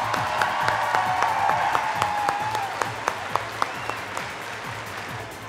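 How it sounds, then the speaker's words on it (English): An audience at the 2018 INFIRST Tippecanoe District Event robotics finals applauds both alliances, dense crowd clapping with a few cheers and whoops, loud and steady throughout. "Let's give a round of applause to both of our alliances here in the finals"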